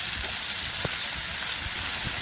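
Hot oil sizzles loudly and steadily as spices hit the pan, a constant bright hiss with faint low clunks underneath.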